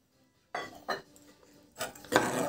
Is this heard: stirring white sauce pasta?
yes